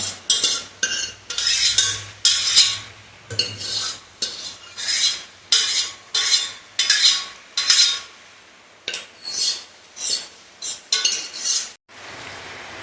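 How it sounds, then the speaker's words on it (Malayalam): Cherupayar parippu payasam, a Kerala green gram and lentil pudding, being scraped and poured from one cooking pot into another, with a long run of rhythmic, close metallic ladle scrapes and clinks of utensil against vessel, no talking. "വേറൊരു പാത്രത്തിലേക്ക് മാറ്റുകയാണ്."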